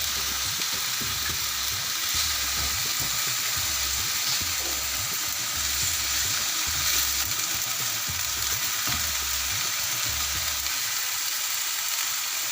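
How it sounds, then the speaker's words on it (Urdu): Minced meat fries with garlic in a pan, giving a dense, continuous loud sizzle and crackle that holds steady throughout, with a low rumble underneath and no speech. "لہسن ڈالا ہم نے، اب لہسن کے ساتھ ہم اس کو تھوڑی دیر فرائی کریں گے"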